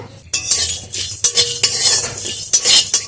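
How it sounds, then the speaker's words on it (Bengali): Whole garam masala, cumin seeds, coriander seeds and dried red chillies dry-roasting in a pan, stirred with a metal spoon that scrapes and clinks in repeated bursts over a faint sizzle. "গোটা গরম মশলা গোটা জিরে গোটা ধনে আর শুকনো লঙ্কা একসাথে দিয়ে একটু ভেজে নেব"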